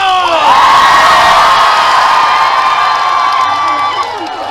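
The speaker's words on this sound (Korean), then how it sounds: "우리 고창을 위해서 자축의 박수와 함성!" At a Korean festival, a large crowd cheers and shouts in celebration, a loud, sustained roar of voices with whoops rising over it and clapping mixed underneath, easing slightly near the end.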